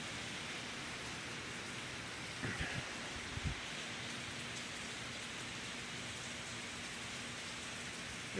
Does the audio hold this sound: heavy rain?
yes